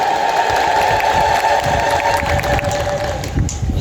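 A church congregation in an Ethiopian Orthodox setting ululates and cheers together in praise, a loud, continuous crowd sound with a steady high trilling tone running throughout.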